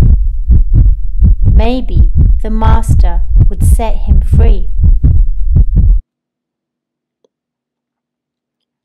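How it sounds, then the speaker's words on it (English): A fast heartbeat sound effect pounds in quick, regular low thumps beneath a clear narrator reading a children's story aloud, then both cut off abruptly, leaving near silence. "Henry's heart beat fast."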